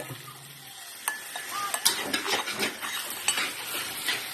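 Noodles being stir-fried in a pan: a steady sizzling hiss runs throughout, broken by repeated scraping and clanking strokes of a utensil against metal, close and moderately loud, growing busier after the first second, with no voices.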